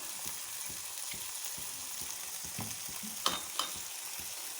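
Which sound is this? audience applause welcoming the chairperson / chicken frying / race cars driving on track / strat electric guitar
chicken frying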